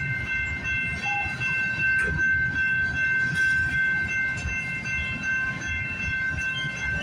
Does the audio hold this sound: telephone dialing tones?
no